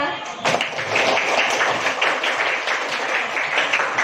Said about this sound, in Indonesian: Beri tepuk tangan yang paling meriah untuk kelompok 2.